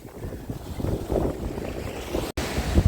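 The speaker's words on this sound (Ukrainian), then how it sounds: "Ну ще цей вітер. Вітер нам заважає." Strong wind blows at the seaside in Odesa and buffets the microphone. It comes as a constant loud rush over the noise of waves and surf nearby, with no talking.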